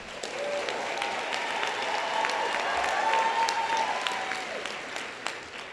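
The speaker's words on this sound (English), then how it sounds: "clearly I like applause" Sustained applause from a large audience at an awards banquet, dense clapping that swells slightly and stays strong throughout, without anyone speaking.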